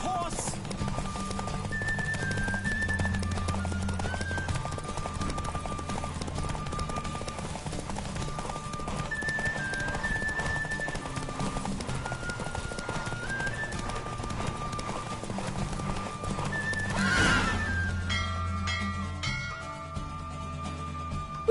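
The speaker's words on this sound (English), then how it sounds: "Don't spare the horse." A horse galloping with steady clip-clop hooves in The Witcher 3: Wild Hunt on PS4, a brisk continuous rhythm under game music and a voice, with a brief louder burst near the end.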